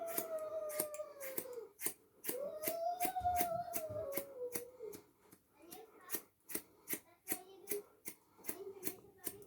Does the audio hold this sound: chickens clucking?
no